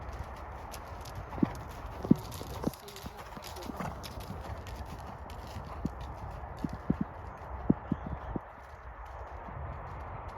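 Hooves of a horse schooled over jumps at home clip-clop at an uneven walking pace, with sharp individual strikes standing out over a constant low rumble and people talking nearby.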